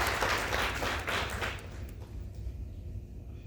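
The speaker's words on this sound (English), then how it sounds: "Please give a big round of applause to Vijay Shah" An audience claps for a guest speaker at a youth conference, a brief burst of applause that is loud at first, then fades to scattered faint claps within about two seconds, leaving a quiet hall.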